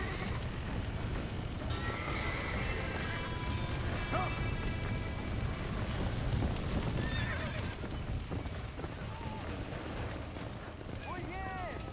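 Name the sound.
horses neighing and trotting in video game Red Dead Redemption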